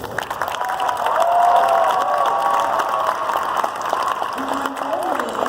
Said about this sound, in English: I would like to give a big round of applause to all of our contestants.